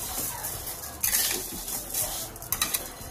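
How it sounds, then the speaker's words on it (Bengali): A utensil scrapes and clinks against a pan while ash gourd pieces are stirred with sugar for murabba before the gas is lit, brief close metallic scraping with a few sharper taps. "এবারে এই গরম অবস্থায় ভালো করে নাড়তে হবে।"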